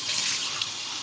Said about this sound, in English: So let's rinse off this bowl.